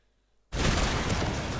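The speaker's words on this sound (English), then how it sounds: "The explosion from the X right there healed me, and I saved myself." A Void Titan's explosion in Destiny 2 bursts suddenly out of near silence, a dense, loud rushing blast that sustains as a roar to the end.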